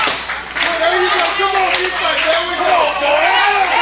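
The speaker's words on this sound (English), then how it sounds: "And you hear the crowd trying to get Matt Houston up." A crowd at an independent pro wrestling event claps in a steady rhythm to rally a wrestler, heard under loud, continuous commentary from an announcer.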